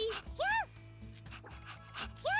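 A Yamper Pokémon dog in Detective Pikachu Returns gives several short, whiny rising whimpers and yips in spaced bursts, close and fairly soft over quiet game background.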